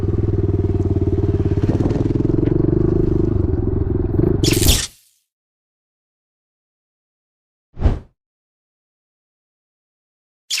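An old Yamaha YZ dirt bike engine revs hard and steadily for about five seconds, then cuts off abruptly into silence. A single short burst of noise follows a few seconds later.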